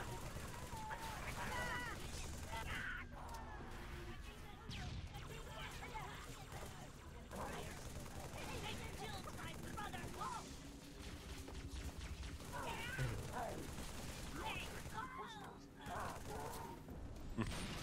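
Gunfire and explosions from the Halo 3 co-op campaign mission Sierra 117 Crow's Nest, with bursts of shots and blasts scattered through the stretch, fairly quiet and mixed with game sounds.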